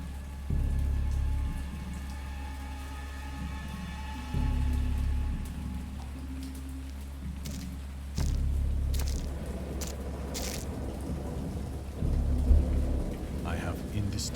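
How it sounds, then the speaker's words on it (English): A heavy thunderstorm: deep thunder rolls swell roughly every few seconds over a steady hiss of rain pattering on surfaces. "I heard pearls of thunder and other tones which nature utters only in her wildest moods"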